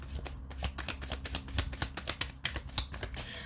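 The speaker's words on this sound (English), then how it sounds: "One last shuffle." A deck of tarot cards is shuffled by hand in a quick, crisp run of riffling flutters and taps, close up and alone with no talk.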